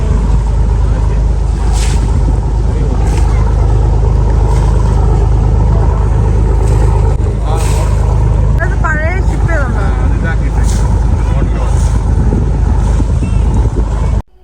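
A dhow boat cruises on the sea off the Doha Corniche in Qatar, its loud engine droning steadily under heavy wind buffeting and water noise, with brief voices partway through.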